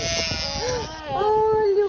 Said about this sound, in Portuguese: Como é que a ovelha faz? Mé.